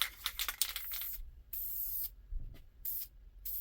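An aerosol can sprays Duplicolor sandable automotive primer in several short hissing bursts, the first longer and the rest separated by brief pauses, close to the listener.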